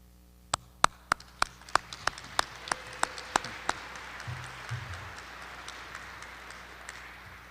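At a military change-of-command ceremony, a few loud, distinct claps ring out in an evenly spaced series. They then fade into softer scattered clapping from the audience after names are announced.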